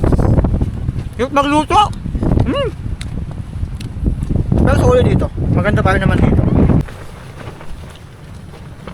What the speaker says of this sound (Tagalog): Lakas ng hangin eh.